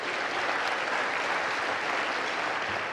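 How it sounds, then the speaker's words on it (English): Steady applause from a city audience at a State of the City address, dense and even clapping that fills the whole stretch without a break, fairly distant and with no voices over it. "How about another applause for that, too?"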